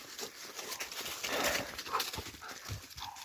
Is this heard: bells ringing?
no